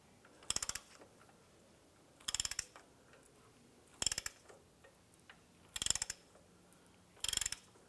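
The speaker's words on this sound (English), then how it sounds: "We're gonna use our socket extension. You can use a breaker bar, but we're gonna go ahead and just use our ratchet." Socket ratchet with extension cranking a 2001-2005 Honda Civic engine over by hand during a timing belt and water pump job, five evenly spaced bursts of rapid clicking, close and clear with no talk.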